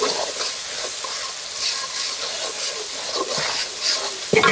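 Spice paste for a poultry curry fries in a pan with a steady, fairly loud sizzle, and stirring scrapes run through it.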